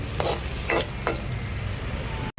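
Onion and vegetables sizzle steadily in a hot pan during a sauté, with a few stirring scrapes breaking through the continuous frying hiss.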